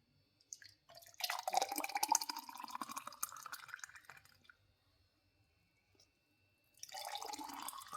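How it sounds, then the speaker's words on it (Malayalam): Homemade grape juice blended with milk and sugar pours in a steady stream into a glass, the pitch of the filling rising as it fills, then a short quiet gap before a second brief pour. "ഇനി ഇതൊരു ഗ്ലാസ്സിലോട്ട് ഒഴിക്കാം."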